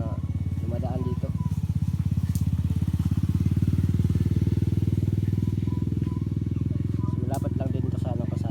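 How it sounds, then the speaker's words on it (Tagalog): Motorcycle engine droning steadily close by on a nearby road, its low rumble continuous throughout while someone talks over it. "Kung marinig nyo yung mga motor na dumadaan,"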